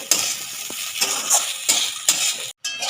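Egg fried rice being stirred and tossed in a pan, a series of scraping strokes with light clinks of a utensil against the metal, repeated about every half second, close and moderately loud with no talking.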